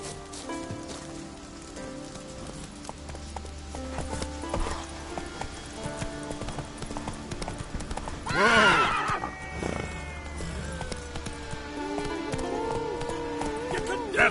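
Roach, a horse in The Witcher 3, moves along with steady clip-clopping hooves and a whinny partway through, over rain and a game music background, with a voice speaking briefly.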